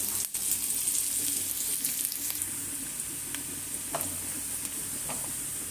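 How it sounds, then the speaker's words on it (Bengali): Steady close-up sizzling of bitter gourd and eggplant frying in a pan, with faint scraping and stirring clicks now and then; no one speaks. "আগে করলা ভাজিটা করে নিব, এরপরে আমি এই সাইডে তো বেগুন ভাজা বসিয়ে দিয়েছি।"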